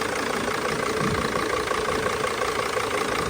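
A 2006 Dodge Sprinter diesel idles steadily at close range with a running serpentine belt and tensioner, giving a constant dense engine rumble with no talking.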